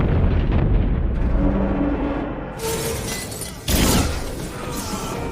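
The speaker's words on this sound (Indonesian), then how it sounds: "torpedo yang mereka luncurkan ternyata berhasil mengenai sasaran" A torpedo explosion strikes a ship in the war film Torpedo 235, a loud, sustained rumbling blast with crashing debris and a second sharp burst of shattering noise partway through, no voices.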